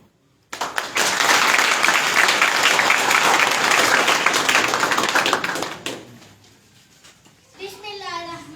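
Loud, dense applause welcoming a speaker to the stage at an office mega event, sustained for about five seconds before fading, followed by a brief spoken voice.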